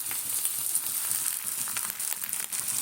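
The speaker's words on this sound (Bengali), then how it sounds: "দেখো এখানে জল দিচ্ছি, একটু অল্প জল দেবো" Ground coriander, turmeric and Kashmiri chilli powder sizzle and spit in hot oil as a little water is added, a continuous bright frying hiss with crackling pops, close and steady.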